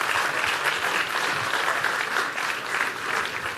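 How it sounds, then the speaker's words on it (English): Crowd applause at a mayor's town hall meeting, a dense, even round of clapping that stays loud and continuous throughout. "Let's give them even more applause."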